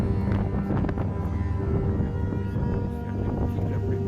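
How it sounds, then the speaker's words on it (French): Strong wind gusts through the village of El Ouatia in Morocco, blowing sand about, with heavy buffeting rumble against the microphone and a continuous rushing roar throughout. "Tellement il y a du vent partout, du sable qui vole partout."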